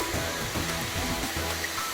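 Constant roaring rush of falling water from Okgye Falls, broad and steady, with low rumbling underneath and no talking.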